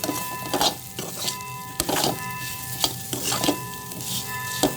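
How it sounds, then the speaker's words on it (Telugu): Banana fry mixture gets stirred in a pan, with repeated scraping strokes and soft clinks of the spatula over a light background sizzle, in an uneven rhythm, with no talking. "ఒకసారి మిక్స్ చేసుకోవాలి అంతా కలిసేలాగా."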